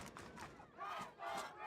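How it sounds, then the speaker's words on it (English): Spectators at a Skyline vs Sunnyside boys varsity high school soccer playoff game roar in two rising surges, a broad, steady crowd swell from the stands. "And we have the crowd getting into it."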